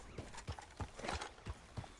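Horse hooves in a stable in a PS4 video game: a steady clip-clop of about six evenly spaced hoof strikes over a constant background hiss.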